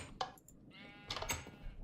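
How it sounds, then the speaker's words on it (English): Sheep in the Minecraft FTB Ultimate mod pack bleating close and loud, a short bleat followed by a longer wavering one and another burst near the end. "Oh my god, Sheep, you're so loud."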